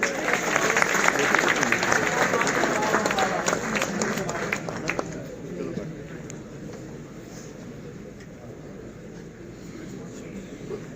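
Audience applause at a poetry recital in Bahawalpur, a loud burst of crowd clapping that fades after about five seconds into quieter murmuring and room noise, with a voice heard over it.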